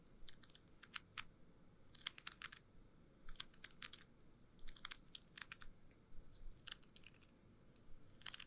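A small, ultra-gentle tarot card deck being shuffled softly, with repeated quiet riffling bursts of crisp papery flutter spaced across the clip over a faint background hiss.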